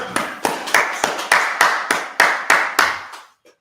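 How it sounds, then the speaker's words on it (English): A group clapping hands together in unison, about eleven sharp, evenly spaced claps that ring briefly in a room before stopping. "All right, let's clap it up."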